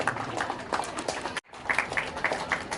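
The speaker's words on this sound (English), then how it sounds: "Can we support the winners with a round of applause" Crowd applause at a Republic Day celebration for school prize winners, a moderately loud, uneven patter of clapping with a brief dropout in the middle before it resumes.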